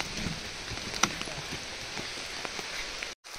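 Steady rain hissing on a surface outdoors, with a few scattered louder drops and one sharp tap near the start; no voices.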